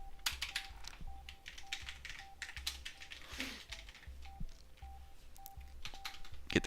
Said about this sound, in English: enjoy the sounds of the keyboard because I'm going to be doing some typing